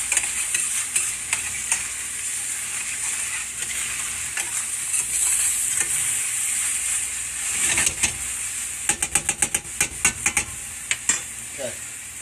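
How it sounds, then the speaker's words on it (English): A spoon stirs bolognese sauce in a pot with a steady wet, sizzling churn. A run of quick, close scraping knocks comes near the end. "Now we're going to start mixing."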